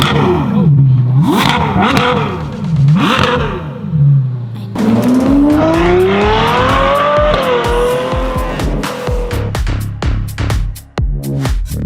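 A twin-turbo widebody Lamborghini revs hard in a few loud, rising blips, then holds a long climbing rev with sharp crackles and pops as it falls away. The engine is close and nobody talks.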